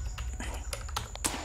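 Keys clatter on a computer keyboard as someone types quickly and unevenly, each keystroke a close, crisp tap, with no voice over it.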